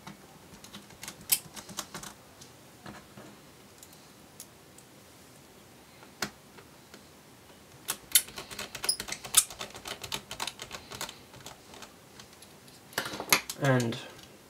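Two small screws are driven back in to hold a cooling fan inside a Dell Inspiron 15 3501 laptop, giving faint metallic ticks and clicks with a louder rattling burst near the end and no talk.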